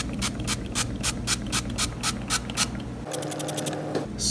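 Cooking spray hisses in a few short bursts onto oats, each spurt a brief broadband hiss over a steady low kitchen hum, close and moderately loud.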